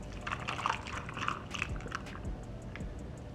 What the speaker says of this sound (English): now I'm just going to pour over the matcha.